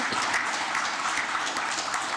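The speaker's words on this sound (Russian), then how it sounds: "Аплодисментами давайте вот Зинат Хайдарович." Steady audience applause fills the hall, a dense, even wash of many hands clapping at moderate volume with no talk over it.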